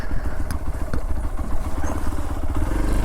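An off-road motorbike rides a forest trail toward a railway tunnel, its engine droning steadily and loud, with clattering and scraping over rough ground.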